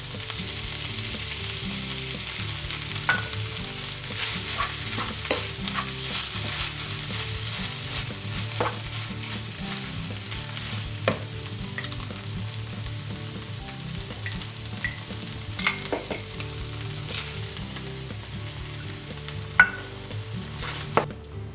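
Vegan moussaka filling of vegetables, red wine and tomato sauce frying in a pan, a steady dense sizzle with occasional stirring clicks and scrapes, close and continuous with no talking.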